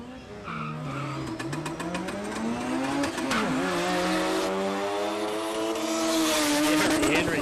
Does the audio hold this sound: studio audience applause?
no